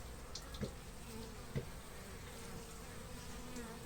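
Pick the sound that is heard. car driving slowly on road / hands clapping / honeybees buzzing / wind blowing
honeybees buzzing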